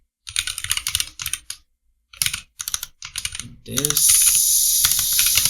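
Bursts of quick clicky typing on a computer keyboard during a Dart programming lecture, several short runs separated by pauses, with someone speaking briefly and a steady hiss in the final seconds.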